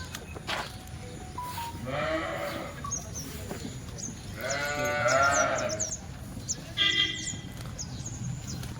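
Several rain-wet Kathiawadi goats bleat in a few drawn-out calls at close range over a low background hiss.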